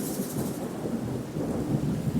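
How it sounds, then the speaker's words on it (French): A thunderstorm breaks overhead with a sustained rumbling thunder crash over steady rain, loud and close throughout with no voices. "Soudain, un orage effroyable éclata dans le ciel."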